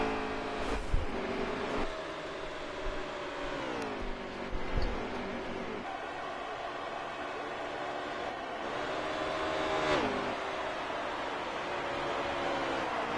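Race car engines in the NASCAR Heat 3 video game drone through a Pocono race after the green flag, pitch sliding down and back up as the cars brake and reaccelerate, a continuous mid-level roar.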